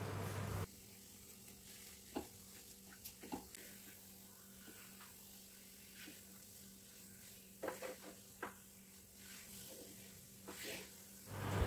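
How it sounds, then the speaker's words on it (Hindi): Dry fruits are stirred into a thick Parle-G biscuit sweet in a kadhai, with soft sizzling and scattered scraping knocks of a spoon, fairly quiet. "अब इसमें थोड़े से ड्राई फ्रूट्स डालेंगे और फिर इसको एक बार मिक्स कर देंगे"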